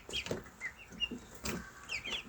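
Young chicks from a champion line, hatched in an incubator, cheep in short high chirps scattered irregularly among soft low clucking, faint and close with no talk.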